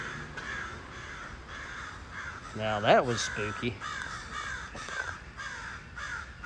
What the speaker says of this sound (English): This is where all the black crows hang out.